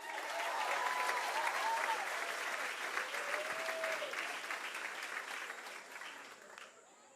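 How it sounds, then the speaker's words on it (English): Audience round of applause at a band competition, a sustained wash of clapping with some crowd cheers and whistles, steady for several seconds before fading out at the end. "Why don't we give Benny a bigger, longer round of applause for a second, eh?"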